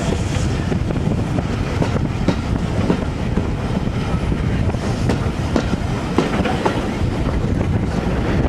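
A Severn Valley Railway train crosses Victoria Bridge over the River Severn, giving a steady, close rumble with rhythmic clickety-clack of wheels on rail joints and some wind buffeting, with no talking.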